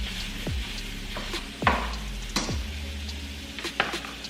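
Italian sausage with peppers sizzles steadily in a hot pan, broken up by a few sharp scraping stirs of a utensil against the pan bottom, close and alone without talk.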